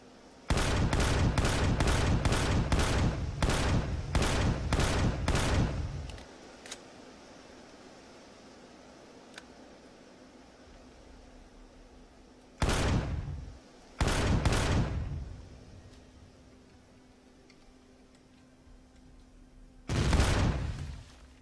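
Bursts of rapid automatic gunfire in the space survival video game Empyrion: Galactic Survival, a long rattling volley up front, then quiet hum, followed by two shorter salvos and a final short burst.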